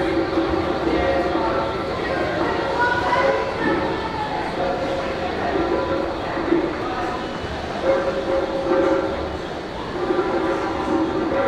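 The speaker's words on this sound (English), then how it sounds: "So this is Times Square subway station, another busiest subway station" Busy Times Square subway station ambience in New York City, with a rumbling train and steady crowd murmur, people talking throughout over the continuous mechanical noise.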